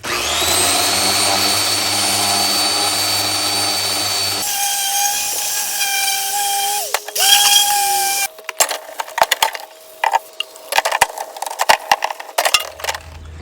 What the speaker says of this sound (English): Just gonna sand my spindle covers here.